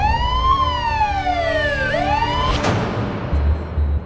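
A wailing ambulance siren in a Hindi TV crime drama sweeps up and down in pitch, loud and close, with a passing pitch drop and road rumble underneath.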